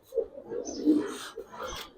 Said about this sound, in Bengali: একদম নিউ অ্যাডাল কবুতর